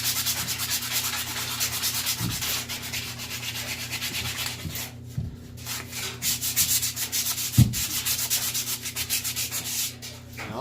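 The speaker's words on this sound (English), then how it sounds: "So I'm going to get to sanding, and we'll hang the head" Hand sanding of a hardware-store hatchet being reshaped into a mini carpenter's axe: steady continuous scratchy rubbing strokes, close and moderately quiet, with a few light knocks, no talk.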